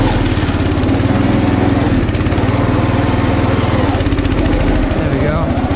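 Engine of a homemade motorized lawn chair, a rough, loud, steadily chugging small engine close by, running without pause and with a rattly pulsing throb.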